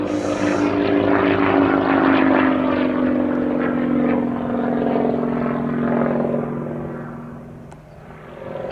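Steady droning piston engine of a Piston Provost trainer propeller plane, loud and close at first, then fading as it moves away.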